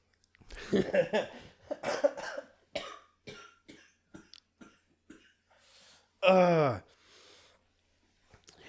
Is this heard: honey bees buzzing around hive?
no